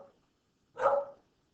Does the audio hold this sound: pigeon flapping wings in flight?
no